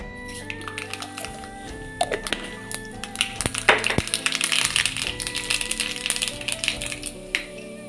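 Mustard seeds crackle and pop in hot coconut oil on a pan on the stove, a scattered run of sharp close taps that grows busier midway and then thins out.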